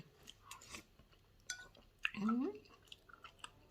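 Close, soft chewing of a bite of oyster mushroom curry with sticky rice, a few moist smacking crunches with a brief vocal murmur mixed in, quiet overall.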